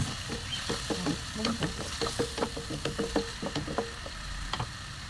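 Pork sautéing in a pan with patis for batchoy, a soft sizzle under a quick series of clicking, scraping stirs from a utensil against the pan, fairly faint and close.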